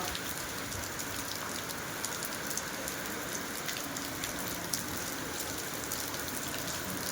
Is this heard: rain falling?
yes